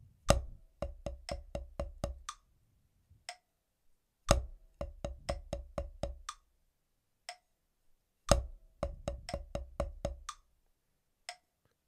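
Snare drum playing a solo exercise of sixteenth-note bars with the first note of each bar accented: three close, crisp bursts of rapid strokes, each opening with a stronger hit, separated by short pauses.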